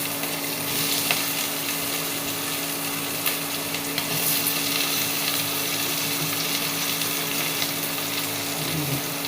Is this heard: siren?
no